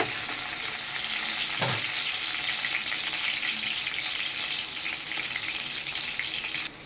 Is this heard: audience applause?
no